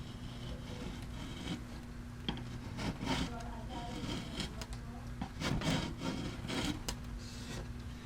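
A chisel works a wooden stair veneer, giving quiet, irregular scraping and rubbing strokes with short bursts of shaving between pauses.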